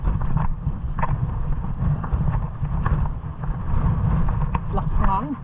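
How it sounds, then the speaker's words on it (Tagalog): Strong wind buffets the microphone at sea aboard a small fishing boat, a constant low roar with gusts. Faint knocks and a brief voice-like sound come near the end. "Lakas ng hangin."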